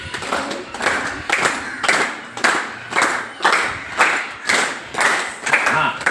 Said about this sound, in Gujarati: હવે લાડુ તાળી મોઢે બોલ્યા વગર મનમાં ગણીને 10 પાડવાની છે.